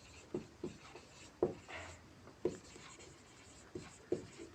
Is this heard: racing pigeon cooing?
no